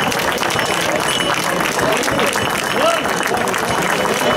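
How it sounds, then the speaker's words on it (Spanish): Festival crowd at an outdoor romeria giving a strong round of applause, continuous dense clapping with voices murmuring underneath. "Un fuerte aplauso."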